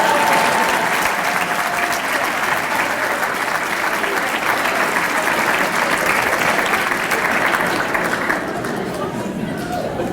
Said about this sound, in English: Give Mr. Ford a round of applause.